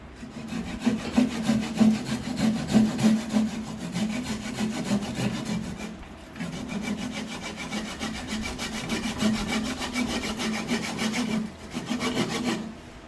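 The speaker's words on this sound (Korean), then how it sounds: "원판을 이렇게 어느 정도 두께를 두고 깍 자르고요. 톱으로 잘라냅니다." A hand saw cuts a disc for a fly fishing reel body in steady back-and-forth strokes, close and fairly loud, with one brief pause midway and no talking.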